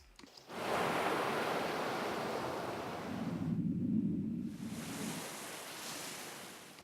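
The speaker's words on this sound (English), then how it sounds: "listen to the transition away from the ocean into the underwater scene" Ocean surf washes in a continuous loud roar, briefly giving way to a deeper muffled rumble before the breaking-wave hiss returns.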